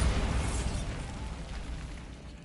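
A Bombarda blasting spell goes off in a Harry Potter–style video game, a single close, loud explosive burst with a deep rumble that fades away over a couple of seconds.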